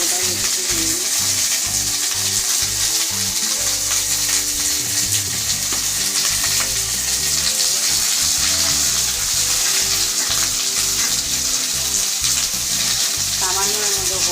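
Whole spices sizzle and crackle steadily in hot oil in a pan while making mustard okra, a loud continuous frying hiss that carries through the whole stretch with faint stirring.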